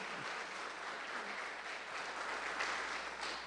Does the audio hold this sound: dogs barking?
no